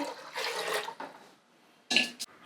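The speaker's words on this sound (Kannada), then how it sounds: "ಬೇಳೆಗೆ ನೀರು ಹಾಕೋತಾ ಇದ್ದೀನಿ ನೀರು ಸ್ವಲ್ಪ ಜಾಸ್ತಿನೇ ಹಾಕ್ತಾಯಿದ್ದೀನಿ" Water poured onto toor dal in a pressure cooker, a splashing, gurgling stream in two bursts, loud and close, with a brief quiet gap between them.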